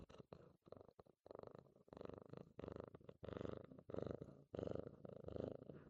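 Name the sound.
cat purring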